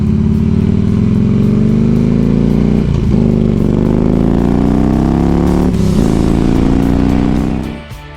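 A motorcycle cruising on the highway during a cross-country trip from Mobile, Alabama to Jacksonville, Florida, its engine droning loud and steady with a few gear-shift dips and pitch rises, then fading at the end.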